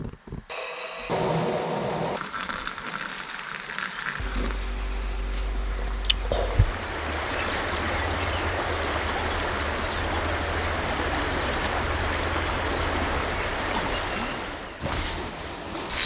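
A river in New Zealand rushes past close by as a broad, steady wash of flowing water that runs for most of the stretch after a few shorter handling noises at the start.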